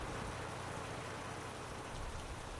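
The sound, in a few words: rain falling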